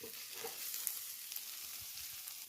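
Onions frying in a pan while being stirred, a soft continuous sizzle with scattered light scrapes and clicks of the spoon, fairly quiet and close, with no talking.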